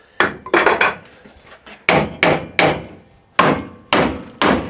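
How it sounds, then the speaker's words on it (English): Slide hammer yanking a stubborn, tightly seized part out during a welding repair: heavy metallic thwacks land one after another in quick pairs and triples, loud and close, each one ringing briefly before the next strike. "This is a slide hammer."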